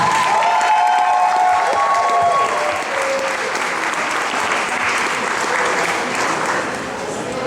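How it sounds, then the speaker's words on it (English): A crowd applauds loudly and continuously, with some cheering and whistles mixed in early, the clapping holding steady throughout. "Big round of applause for our challenger."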